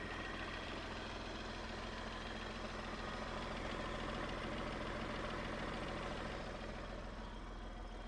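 A 2018 Tata Tiago's engine runs steadily at idle, a constant close hum with no other sounds over the whole stretch.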